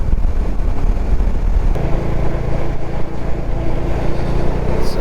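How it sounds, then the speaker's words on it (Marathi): Road traffic fills the town of Mangaon as a rider on a motorcycle trip rolls through it, with a loud continuous engine rumble, wind noise, and passing vehicles close by. "आणि ही माणगावची ट्रॅफिक सुरू."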